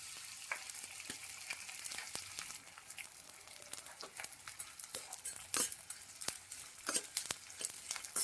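Edible gum fries in hot ghee for traditional methi pak, crackling and popping in quick irregular bursts over a steady sizzle, close and moderately loud with occasional light spoon clinks.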